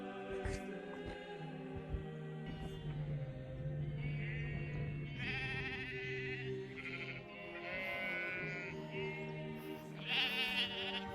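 Sheep bleat repeatedly in a field during a countryside hike, several wavering calls overlapping at moderate distance over quiet background noise.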